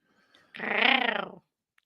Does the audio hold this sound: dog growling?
yes